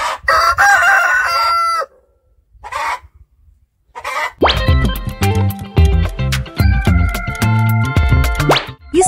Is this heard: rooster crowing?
yes